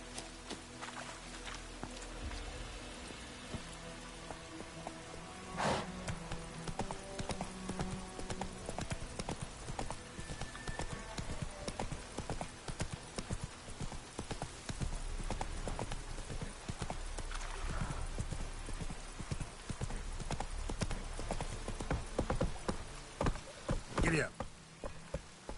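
Horse hooves clip-clopping steadily through The Witcher 3 game world, a continuous walking rhythm close by with occasional whinnies and faint rain-like ambience, no talk over it.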